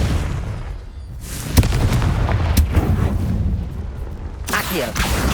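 Confringo fire spell blast in Hogwarts Legacy, a sharp burst with booming, fiery crackle that rises out of combat noise, followed by further impacts and crackling from the fight.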